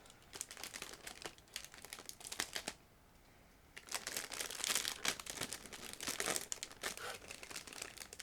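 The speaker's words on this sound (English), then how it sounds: "I will open the next plastic bag." Close crinkling and rustling of a thin plastic bag from a scale model tank kit being pulled open, in quick bursts with a brief pause, then more crackly handling.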